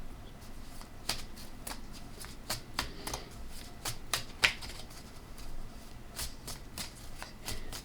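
A deck of playing cards is shuffled close by, with repeated crisp riffling and snapping bursts at a quiet, even pace and no talking.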